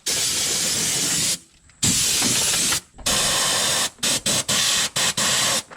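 Aerosol spray can hissing over the engine bay of a 1973 Monte Carlo with an open carburetor, loud and close in several long blasts followed by a string of short, quick bursts.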